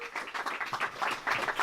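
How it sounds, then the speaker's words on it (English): An audience claps steadily and fairly close for MP Carolyn Bennett at a Toronto community arts anniversary gathering, a dense patter of many hands with no voices. "a big round of applause for Carolyn"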